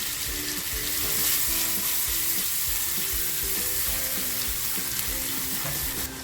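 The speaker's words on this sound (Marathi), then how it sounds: "कांदा जो बारीक करून घेतलाय तो कांदा टाकते" Finely chopped onion fries in well-heated oil with asafoetida, giving a steady, loud, close sizzle with soft stirring and light music underneath, with no talking.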